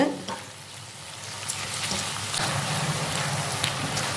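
Tomatoes sizzle steadily in a hot pan for a crab pepper masala while a spoon stirs and scrapes through them with occasional sharp clicks.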